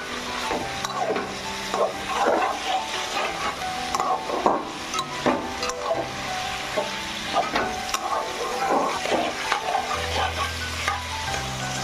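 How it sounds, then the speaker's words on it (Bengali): Cashews, raisins and chillies fry in oil in a pan, crackling and sizzling steadily throughout, with spoon scrapes and stirring clatter coming through close by. "দিয়ে দেবো এগুলো কাজু কিশমিশ লঙ্কা, এগুলো হালকা ফ্রাই হবে।"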